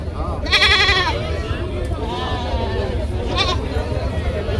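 Goats bleating at a livestock market near Dhaka, a few loud close bleats over a steady crowd murmur and nearby talk.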